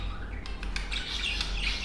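Pet finches kept in a home aviary give quick squawks and bright chirps, several close calls overlapping in a busy, lively burst.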